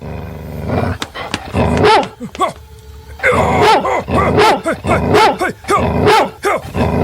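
A large dog barks repeatedly and aggressively, loud close woofs in rapid bursts with growly tones, pausing briefly before resuming.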